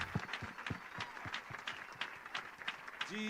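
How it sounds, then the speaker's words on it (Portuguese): A congregation applauds during a church reception service: rhythmic, steady clapping from a crowd at moderate distance, with voices mixed in and a short sung or spoken tone near the end. "Vamos aplaudir a Jesus"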